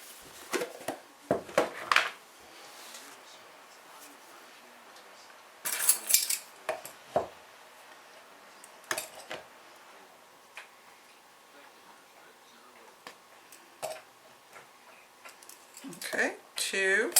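Flour is mixed in a bowl for bread dough, producing scattered clinks and scrapes of a utensil against the bowl in uneven bursts, close by, with quiet gaps between them.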